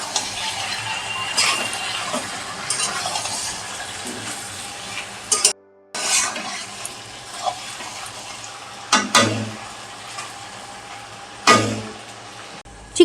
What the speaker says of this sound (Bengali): এই চিকেনটা এবার আমি একটু কষিয়ে নেব